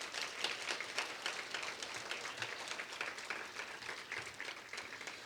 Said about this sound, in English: let's give Mr. Antoine Fisher a round of applause